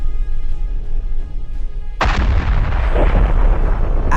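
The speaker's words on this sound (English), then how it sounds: "After an explosion like that, there's not much left of the APC." An armored personnel carrier blown apart by a mine in a combat zone erupts in a single loud, abrupt blast midway through, followed by a sustained roaring rumble and debris noise, with steady background noise before it and no speech.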